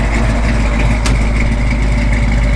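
A 1956 Ford F100 pickup engine idling steadily with a deep, even rumble and a brief click partway through.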